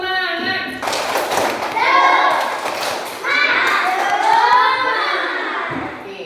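A class of children in a school lesson chants together while clapping in rhythm, the sharp claps landing in bursts between the loud group voices.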